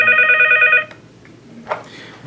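An ESI 30 office desk phone rings in an electronic warble for under a second and then cuts off as the ringer volume is adjusted, followed by a faint click and quiet handling noise.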